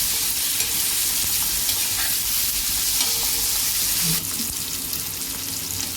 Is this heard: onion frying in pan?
yes